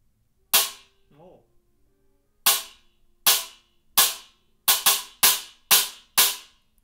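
Zildjian FX Stacks cymbal in a tightened stack setting struck eight times: short, dry, trashy crashes with quick decay, spaced at first then in a faster run, with a faint brief vocal sound between the first hits.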